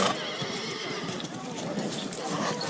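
A foal neighs amid the busy, noisy bustle of a stud open day; the whinny is short and sits within a dense wash of background sound.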